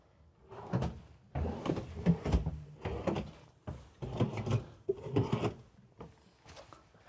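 Deep storage drawers in a 2024 Newmar Super Star 4065 motorhome slide open and shut in a series of close wooden rumbles and thuds, several separate pulls spread across the stretch with short pauses and no talk.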